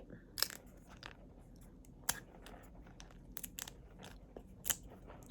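Pink tamarind being bitten and chewed up close, with sharp, intermittent crunches and crackles spaced irregularly over quiet chewing.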